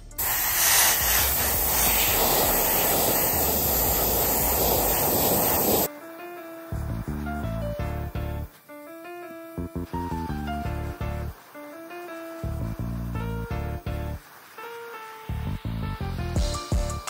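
An airbrush sprays white base coat onto a fishing lure in a loud, steady hiss for about six seconds, then gives way to quieter intermittent clicks and handling sounds.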